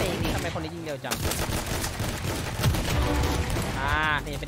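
Rapid automatic gunfire in the shooter game Hyper Front Mobile, dense overlapping bursts with mechanical clatter, loud and continuous, with a rising whine near the end.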